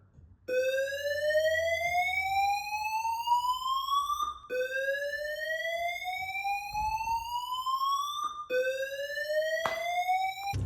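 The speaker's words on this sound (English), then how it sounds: "the fire alarm went off yesterday" A building fire alarm sounds with three long rising whoop sweeps, each climbing in pitch for about four seconds before restarting, loud and close with no talk over it.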